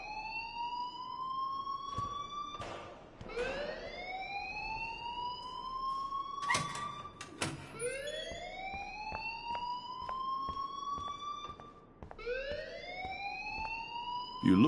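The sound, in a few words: fire alarm ringing in Life is Strange video game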